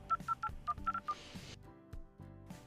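Rapid sequence of telephone keypad dialing tones, about seven short beeps in an uneven rhythm, close and clear, followed by faint ringing-line hum and a few soft clicks.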